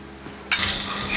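Brinjal and tomato frying in a pan for a North Karnataka brinjal curry: a soft stir at first, then a loud, steady sizzle bursts up halfway through and holds to the end.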